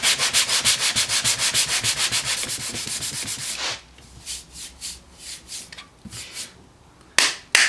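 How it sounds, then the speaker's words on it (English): A car body panel is hand-sanded with 180 grit sandpaper: fast, even back-and-forth rasping strokes close by, then slower, scattered scrapes with brief pauses. "now we sand again with the 180 grit"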